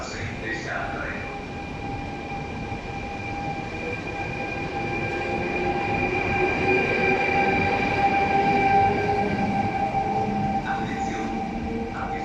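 A train rolls into platform 4 of an Italian station arriving from Ancona, its steady rumble building and holding near and loud with faint high whines from the wheels, while a public-address announcement plays over it.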